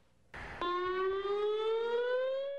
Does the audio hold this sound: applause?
no